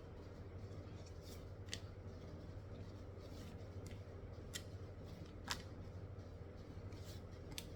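Tarot cards are handled for a reading, giving scattered faint, crisp snaps and flicks over a low steady background hum.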